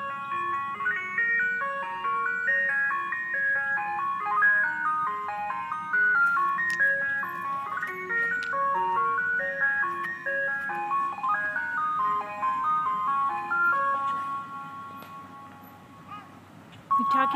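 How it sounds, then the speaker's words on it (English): An ice cream van plays its chiming jingle, a bright tinkling melody of repeated notes that runs steadily throughout with a soft low hum underneath. "Is that the ice cream truck, Marley?"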